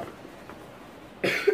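A single sharp cough bursts out near the end after a quiet stretch, close and fairly loud, followed by a brief second catch.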